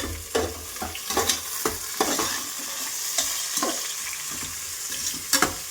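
Onions sizzle steadily in a pan while being fried for mutton biryani, with repeated close scraping stir strokes over the constant hiss.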